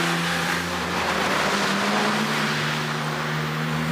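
A Porsche 997 GT3 RS with its Mezger flat-six holds a steady, droning high-rev engine note for a few seconds on a road run, loud and continuous with a slight rise in pitch.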